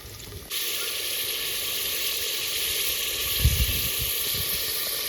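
Spices hit hot oil for a tempering, sizzling and hissing loudly and continuously after a sudden start, with a brief crackle partway through.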